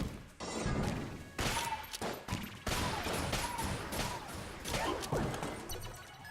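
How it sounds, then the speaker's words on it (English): Makeshift cannon shots in the video game Enter the Gungeon slamming into walls, a rapid series of heavy booming impacts and crashes in quick succession with no talk. "Wanted to see if I could kill the enemies just by launching shots into the wall."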